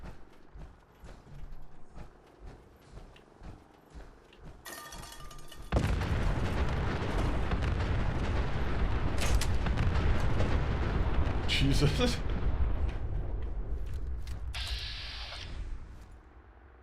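Robots blowing up in Fallout 4, with a sudden loud, sustained roar of explosions and crackling blasts lasting several seconds before fading, and a brief startled exclamation from a man over the noise.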